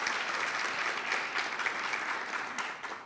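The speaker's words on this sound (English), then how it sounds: "Let's give him a round of applause." An audience at a men's leadership forum gives a sustained round of applause, a fairly faint, even wash of clapping that thins out slightly as it ends.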